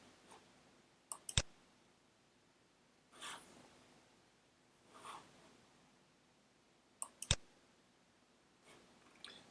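A computer mouse clicking on the Windows start menu, a few sharp close clicks in small groups with faint rustling and breathing between them, no talking.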